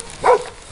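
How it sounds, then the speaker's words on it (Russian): A shepherd dog at a country house gives a single short bark, fairly close and clear over a quiet outdoor background. "Такая овчарочка бегает, сейчас увидите."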